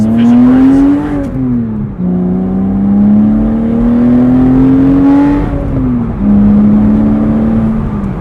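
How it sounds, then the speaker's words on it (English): Porsche Boxster flat-six engine revving loudly and close, pitch climbing through gears with brief dips at shifts, a smooth wailing tone that sustains for the whole stretch. "That's a signature flat 6 whale."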